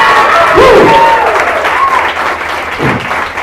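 An audience at a Hindi-language Christian gathering bursts into loud, sustained applause with shouts and cheers, dense and close, with voices rising over the clapping before it thins toward the end.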